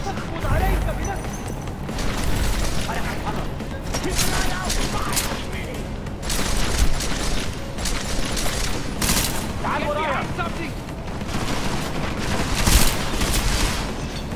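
Explosions and dense gunfire in the Dubai level of the video game Deus Ex: Mankind Divided form a continuous, busy battle din with repeated booms and bursts, while a player talks over it.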